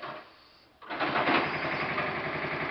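A Briggs & Stratton small engine fueled with Brown's gas sputters faintly, then catches abruptly and settles into a loud, steady, buzzing run at close range, with no one speaking.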